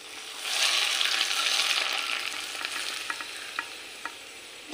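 Slightly cooled oil is poured over an amara (hog plum) pickle and stirred in, giving a close, hissing sizzle that gradually softens, punctuated by light spoon clicks.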